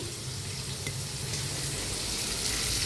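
Onions sautéing with salt in a pan, a steady close sizzle and crackle that holds evenly and grows slightly louder throughout, with no voices.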